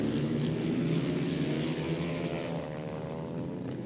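Supermoto motorcycles racing on a track, a loud continuous engine drone with shifting pitch as bikes pass, fading slightly toward the end.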